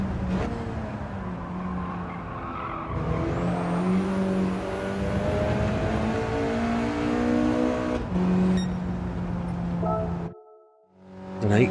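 Race car engine in a Gran Turismo 7 licence test cornering run, a loud sustained rev that climbs and holds through gear changes, with brief tyre squeal, then drops off sharply near the end before revving again.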